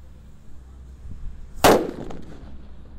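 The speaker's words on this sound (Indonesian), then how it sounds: "Selanjutnya ini ada mercon petir. Kita nyalakan." A mercon petir firecracker goes off with one sharp, loud bang that fades into a short rumbling tail, heard alone outdoors.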